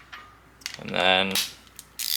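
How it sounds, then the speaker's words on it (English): Ratchet wrench slowly driving in a cam timing gear installer tool on a Miata engine build, a short burst of clicking and grinding mechanism noise, close and fairly quiet with faint taps around it. "just using a wrench, ratchet, whatever, slowly drive it in, and it will just bottom out."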